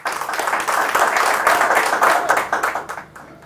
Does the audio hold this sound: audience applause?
yes